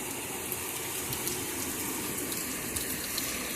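Drinking water flowing steadily from a village water source, a continuous gushing wash of moderate loudness with no voices over it.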